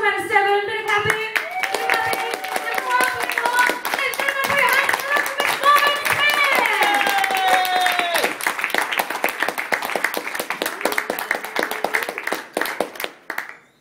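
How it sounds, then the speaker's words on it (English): Audience applause and clapping at a comedy club, a dense steady patter of many hands over nearly fourteen seconds with whoops and talk mixed in, tapering off at the end. "would you please put your hands together warmly, go up to about a 7, bit of clapping."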